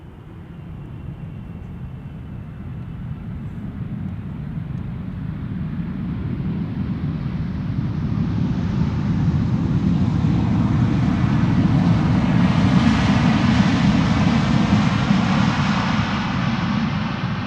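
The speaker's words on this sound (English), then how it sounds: "Air Canada is about to land on Polderbaan, flight 808, arriving from Toronto." Boeing 777-200LR airliner of Air Canada landing at Schiphol on the Polderbaan runway, a broad steady jet roar heard from outside that slowly swells louder, with no talk over it.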